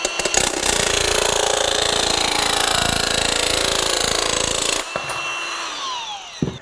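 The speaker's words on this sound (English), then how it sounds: "You can easily cut a metal stud without issue." Milwaukee M12 Fuel 16-gauge cordless variable-speed nibbler cutting through metal stud, a loud rapid buzzing chatter sustained for about five seconds before winding down with a few faint mechanical clicks.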